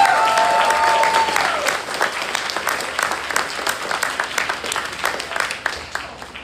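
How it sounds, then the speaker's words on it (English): Convention crowd at TrotCon applauding event registration staff, a dense wash of clapping that starts full and thins into scattered claps over several seconds, with a brief tone and faint voices near the start. "We give them a round of applause."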